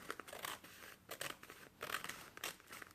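Scissors snip through the end of a paper bag in a few short bursts of crisp cutting and crinkling, close up and fairly quiet, with no voices.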